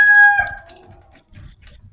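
A black Kelso gamecock crows loudly once, a long drawn-out call that fades, followed by a few soft clucks and rustles.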